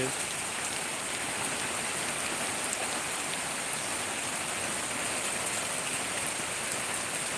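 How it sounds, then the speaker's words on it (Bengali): The first rain of Baishakh, arriving after five or six dry months, falls as a steady, dense hiss of drops striking surfaces, even and unbroken throughout. "পাঁচ থেকে ছয় মাস পরে এই নতুন বৃষ্টি আসলো"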